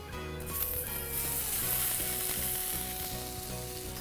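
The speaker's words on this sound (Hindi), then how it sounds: "इसको हम फ्राई कर लेंगे अच्छे से।" Boiled potatoes with finely chopped ginger and turmeric sizzle and fry in hot palm oil for a samosa filling. The steady, crackling sizzle runs throughout, with soft background music beneath it.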